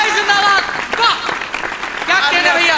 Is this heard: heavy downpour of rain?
no